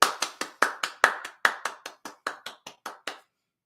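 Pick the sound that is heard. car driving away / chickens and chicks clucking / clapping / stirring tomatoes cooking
clapping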